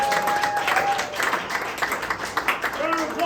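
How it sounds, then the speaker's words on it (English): An audience at an evening show hosted at a Michaels store applauds in a scattered, uneven patter while a voice talks over the clapping. "Round of applause to Michaels for hosting us tonight."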